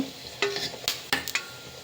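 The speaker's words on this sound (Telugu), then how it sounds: "ఆయిల్ వేడెక్కిన తర్వాత ఒక మూడు నేను బిర్యానీ ఆకులు వేసుకుంటున్నాను" Three bay leaves drop into hot oil at the start of a tomato rice, giving a few short, crackly sizzle bursts close by against a quiet kitchen background.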